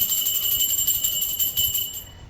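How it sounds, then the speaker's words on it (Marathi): A small bell rung during a home puja gives a bright, sustained metallic ring that hangs steadily and then fades away at the end, heard alone in a quiet room. "घंटी वाजवली"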